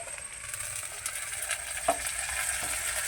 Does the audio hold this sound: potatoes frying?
yes